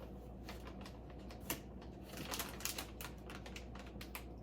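Scissors snip through a layer of plastic packaging on a mattress, giving a run of close, crisp crackling cuts and rustles at an irregular rhythm, with no talk.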